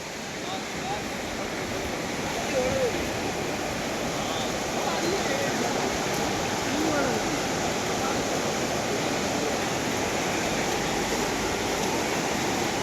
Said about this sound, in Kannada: ಇಲ್ಲಿ ನೋಡಿ ಫ್ರೆಂಡ್ಸ್, ನೀರು ಹೇಗೆ ರಭಸವಾಗಿ ಹರಿತಾ ಉಂಟು